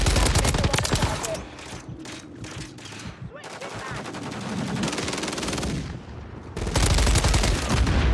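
Rapid bursts of automatic gunfire in a Call of Duty Modern Warfare III multiplayer match, loud and close, with dense volleys at the start and end and quieter scattered shots and game effects between.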